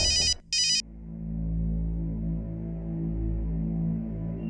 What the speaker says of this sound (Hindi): कौन है जो तुम्हें फोन कर रहा है बार बार?